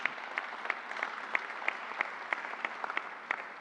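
Steady applause from a crowd at a community college announcement event, a continuous wash of clapping with sharper individual claps standing out throughout, moderately loud and without talk.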